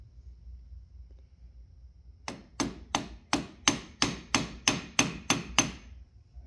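Hammer striking a metal part on a Honda quad, about ten evenly spaced sharp taps in a quick steady rhythm after a quiet start, close and fairly loud.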